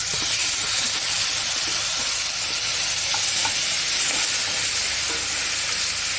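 Tomatoes hitting hot oil already holding green chilli and asafoetida, a loud, continuous broad sizzle and hiss with no voices.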